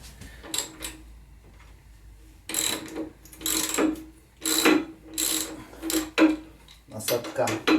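A hand ratchet removes the rail on a 2002 Harley Davidson Road King Classic, giving repeated bursts of close, crisp clicking separated by short pauses, with quiet talk between the bursts.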